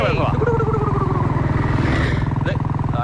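A motorcycle carries two riders, its engine droning and pulsing steadily up close, with voices talking over it.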